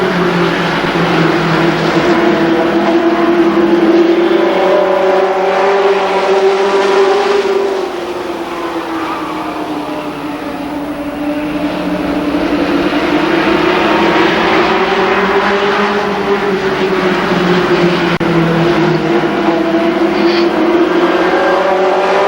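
Limited sportsman race cars roar around a speedway in a heat race, their loud engines rising and falling in pitch as the pack circles past, continuous and close throughout.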